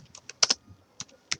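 Several quick, close keystrokes tapped on a computer keyboard in a quiet room, coming in two short bursts separated by a brief pause.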